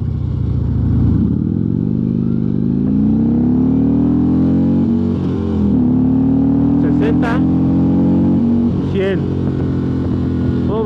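Harley-Davidson Road Glide Special motorcycle accelerating hard from 0 to 100, a loud, close engine note rising steadily through the gears with a brief dip at a shift, then climbing again and easing off.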